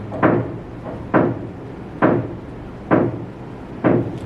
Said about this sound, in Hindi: हथौड़ा भी तब चलता है जो रिकॉर्डिंग हो रही है